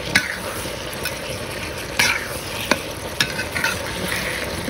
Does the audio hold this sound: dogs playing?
no